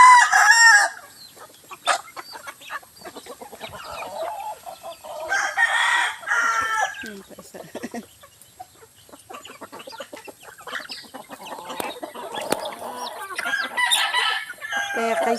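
Chickens and a rooster in a farmyard coop with newly hatched chicks, clucking steadily with repeated crows rising over the flock, close and fairly loud.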